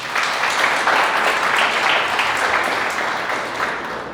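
A church congregation applauds during a Spanish-language sermon, a full, steady roll of many hands clapping that stays strong before easing slightly toward the end, with no voices over it.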